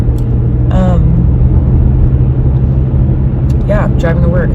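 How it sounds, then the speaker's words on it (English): A car driving on the road on a commute to work, heard from inside as a steady, loud low engine and road rumble throughout, with a few brief higher tonal chirps over it and no talking. "driving to work, that's what's going on today"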